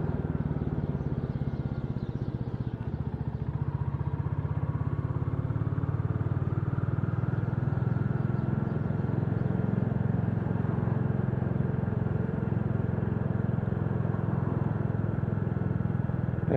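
A Royal Enfield Classic 350 motorcycle being ridden, its single-cylinder engine giving a steady, loud, continuous rumble throughout, without pause or talk.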